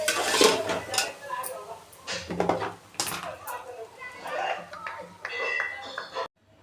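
A metal spoon scrapes and clinks against a pot as spices are mixed on a gas stove that has been switched off, giving irregular rattling strokes up close, with a voice in the background.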